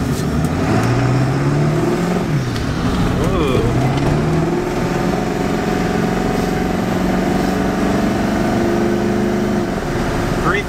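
A wrecked Ford 7.3 Powerstroke diesel truck engine revs and accelerates, its low drone rising and sweeping upward in pitch before settling into a steady, loud cruising hum, with voices talking over it.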